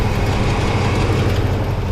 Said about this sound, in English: This thing drives good. It's a nice strong engine.